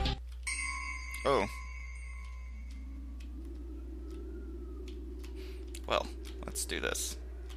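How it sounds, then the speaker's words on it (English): A phone rings once with a bright electronic tone during a quiet, dim game scene, followed later by short bursts of nearby talk. "Another phone call."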